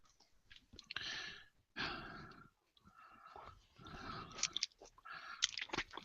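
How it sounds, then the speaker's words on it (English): Someone munches Chinese spare ribs up close, with wet, smacking chewing in several bursts separated by short pauses and breaths, and no talking. "the sound of me munching on my Chinese spare ribs here is making its way into the feed"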